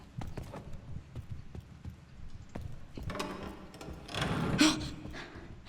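Footsteps in the survival horror game Resident Evil Requiem, a steady series of close, crisp steps that swell into a louder scuffing burst near the end.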